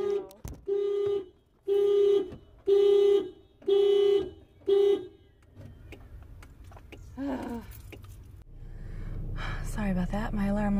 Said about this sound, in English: My alarm likes to go off randomly.